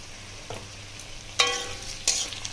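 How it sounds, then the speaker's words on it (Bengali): Onions fry in a pan with a low steady sizzle, broken by a few sharp clattering stirs, close and moderately loud. "পেঁয়াজগুলো ভেজে নিয়ে ফিরে আসছি"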